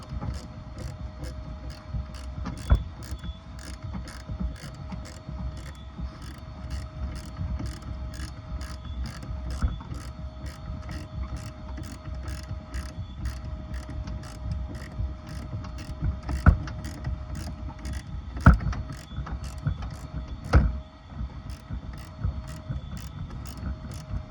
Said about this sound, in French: on va commencer à dévisser le petit collier là